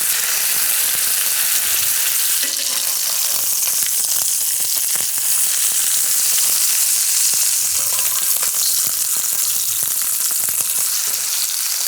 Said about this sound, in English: we're going to cook these steaks on the first side for about 3 minutes.